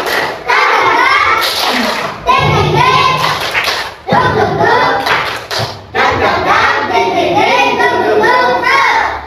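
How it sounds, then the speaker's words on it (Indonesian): A class of schoolchildren in an Islamic religious education lesson performs a rhythmic 'tepuk semangat' clapping chant, loud and close, with patterned claps and thumps under their chanting voices. "Coba tepuk semangat baru"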